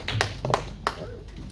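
A church congregation breaks into short bursts of applause acclaiming the word of the Lord, a few scattered claps close together rather than sustained clapping, with a voice faintly present.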